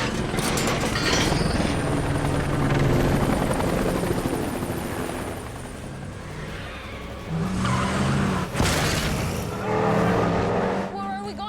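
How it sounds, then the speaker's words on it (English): A stolen police helicopter in a film chase scene roars loudly and steadily throughout, its rotor noise layered with car engines and brief tire squeals. "pursued by hostiles and a stolen police helicopter."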